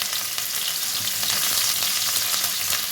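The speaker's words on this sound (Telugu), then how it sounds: "ఆయిల్ వేడెక్కిందండి ఆనియన్స్ వేసుకున్నాను" Onions sizzle in hot oil in a bowl on a stove, a loud, continuous crackling hiss with dense spattering, close and steady without talk.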